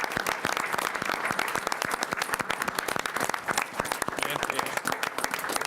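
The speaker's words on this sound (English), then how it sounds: "Let's give these guys a hand." Audience applause at a Joliet city council meeting, honoring a youth football and cheer program: dense, steady clapping from a full room that carries on through the whole stretch without thinning out.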